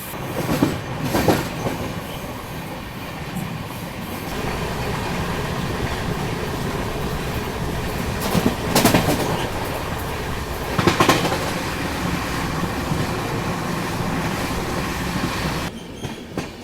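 Heard from inside a first-class carriage, an Indian train runs along the rails with a steady, loud rumble and intermittent clickety-clack bursts as the wheels cross rail joints.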